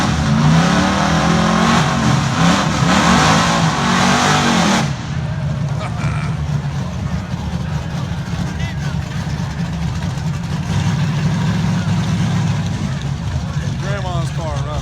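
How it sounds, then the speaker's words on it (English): Engines of a Chevrolet Caprice and a Pontiac Parisienne drag race car rev loudly for about five seconds, then settle into a steady, rumbling idle, with people talking over the engine noise. "Grandma's car running."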